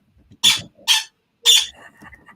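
Pet dog letting out three short high squeaky yips, evenly spaced and close, followed by faint softer whines, with no talk over them.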